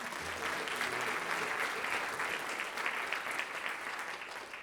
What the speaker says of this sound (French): Un gros main d'applaudissements.